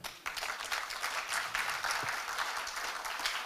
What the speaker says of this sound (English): please give yourselves a massive round of applause for being here today